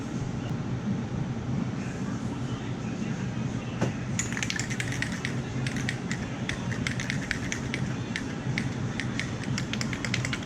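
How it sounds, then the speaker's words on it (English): An aerosol spray can puts black paint on the brakes of a Subaru Outback XT, a steady low hiss with a run of quick rattling clicks and short bursts, faint and close. "I'm spraying some black paint on there so it doesn't rust."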